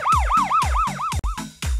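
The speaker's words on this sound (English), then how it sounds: "ambulance" Ambulance siren wailing in rapid repeated up-and-down sweeps, loud and close, with a brief break near the end before resuming.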